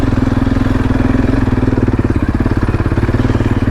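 A Can-Am ATV's Rotax engine runs steadily near the microphone, a loud, even mechanical pulse with a low throb and clatter throughout, no voices over it.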